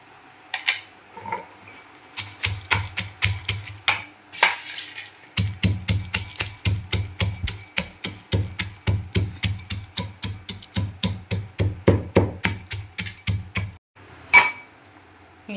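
A pestle pounds ingredients with salt in a mortar, a long run of rapid, rhythmic hard knocks close by, pausing briefly and resuming in steady bursts.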